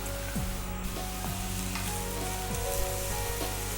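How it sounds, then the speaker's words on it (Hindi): Mushrooms and cabbage sizzle loudly in a hot pan for Chinese-style mushroom fried rice, a steady close frying hiss with tossing and stirring scrapes recurring throughout. "और मशरूम के साथ साथ थोड़ी सी इसमें कैबेज भी डाल देते हैं और इसको एक बार और टॉस कर लें।"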